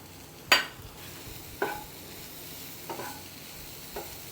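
Masala sweet corn stirred in a pan with lime juice, four separate scraping strokes spaced about a second apart, the first strongest, over a low quiet background.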